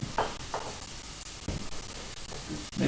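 Chopped chili pepper with some seeds left in sizzles steadily in a hot pan, close and constant, broken by several short scraping stirs.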